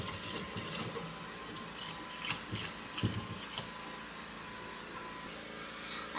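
Tap water splashes into a pot of rice with a steady rush, broken by a few clunks and knocks of the pot being handled.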